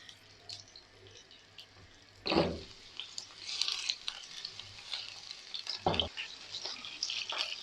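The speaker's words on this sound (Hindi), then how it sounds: "भिंडी को मैं हल्का सा फ्राई कर लूँगी।" Okra frying in mustard oil in a pan gives a steady soft sizzle, broken by a couple of sharp stirring scrapes and clatters, close and moderately loud.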